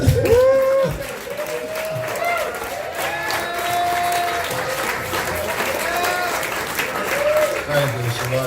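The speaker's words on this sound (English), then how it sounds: "Clap your hands." Audience at a Hermosa Beach venue claps hands in a steady, dense burst of applause with some cheering, while a voice carries over the crowd throughout.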